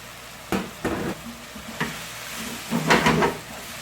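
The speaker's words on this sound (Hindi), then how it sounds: "और इसको तकरीबन 2 मिनट जो है फ्राई करते हैं अच्छा सा" Chicken keema with red chilli, turmeric and salt fries in a pan, a low steady sizzle broken by several scraping stirs and clatters of a utensil against the pan, up close with no talking.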